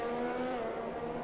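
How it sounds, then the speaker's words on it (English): Alpha Tauri race car in a racing video game with an engine that sounds wrong, a steady high-pitched, strained whine held loud and close throughout. "Something weird going on with the Alpha Tauri cars. They sound absolutely horrendous."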